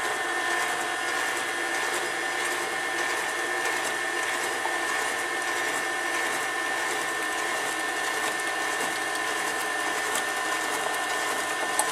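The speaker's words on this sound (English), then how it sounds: "Now we need to beat in our oat mixture." An electric mixer beats oat mixture into chocolate oat snack cake batter with a steady, loud, unbroken whir. It runs alone for the whole stretch.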